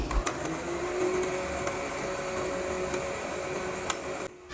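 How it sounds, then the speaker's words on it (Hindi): A blender whirring through a tamarind mixture in a jug, a steady motor drone with a faint thin whine, fairly quiet and unbroken until it cuts off near the end. "हम इसको ब्लेंडर की मदद से थोड़ा सा ब्लेंड कर लेंगे"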